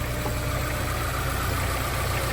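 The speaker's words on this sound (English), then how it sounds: "So you hear how smooth the motor is." A Honda S2000 engine idles smoothly while its coolant is bled, a loud, steady, unbroken hum with no misses or surges.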